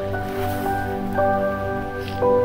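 Aerator bubbling in the water of an arowana fish tank, a steady humming drone with soft gurgles and drips.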